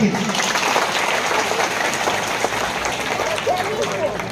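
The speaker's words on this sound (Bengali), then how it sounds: "অভিভাবকরা আছেন, তারা আরেকবার জোরে হাততালি দিন" Parents and children clap together at a school Independence Day program on 15 August, a dense sustained round of applause filling the room, steady and fairly loud from start to finish.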